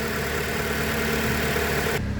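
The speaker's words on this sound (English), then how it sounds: "Okay, shot with the motor running." A 2012 Chrysler 200 idles with a steady, smooth low hum and even engine drone heard close up, holding constant with no revving and no speech.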